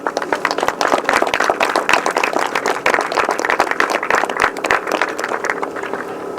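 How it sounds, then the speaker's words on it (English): A crowd claps loudly for the Inters riders at a grass track meeting, with irregular, close claps forming a steady burst of applause that fades slightly near the end. "a round of applause for all of our Inters"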